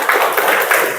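A classroom audience claps for a student group that has just finished presenting, a dense, steady patter of many hands filling the whole moment with no voices over it.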